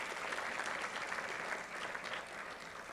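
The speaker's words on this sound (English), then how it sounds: "Please give a round of applause for them as well." An audience at a graduation ceremony applauds the planetarium staff, a dense, steady clapping that stays fairly even and somewhat distant, with no voices over it.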